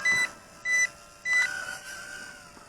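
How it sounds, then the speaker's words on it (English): Three short, high electronic beeps from an XR-7 Nano Hexacopter drone's controller as its thumbstick is pushed in, evenly spaced and fairly close, followed by a softer sustained tone with a faint whir underneath. "we're pushing it in until we hear the beeping"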